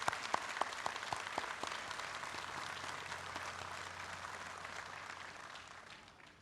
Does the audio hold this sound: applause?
yes